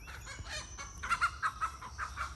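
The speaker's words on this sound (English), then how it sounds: "Chicken drama." Backyard chickens on a first-year garden plot in the northeast give off soft, scattered clucks and a few brief squawks, faint and somewhat distant over low outdoor ambience.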